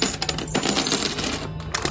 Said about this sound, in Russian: Новая монетка.